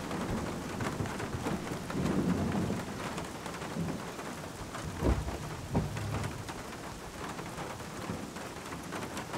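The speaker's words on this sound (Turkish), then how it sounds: "Çok yağmur yağıyor." Heavy rain pours steadily on an Istanbul street, a dense constant wash of drops with a couple of brief low rumbles of thunder mid-way; no voices.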